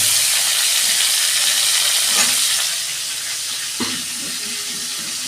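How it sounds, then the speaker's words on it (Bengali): Cauliflower florets fry in a pan for a potato-cauliflower roast, producing a loud, bright sizzle that drops to a quieter hiss partway through, with a brief clatter near the end. "কপিগুলো আর 2 মিনিট ভাজবো আমি।"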